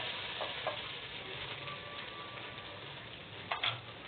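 Ginger paste sizzles steadily in hot oil while being stirred, a faint, even crackle with a few light scraping taps near the end.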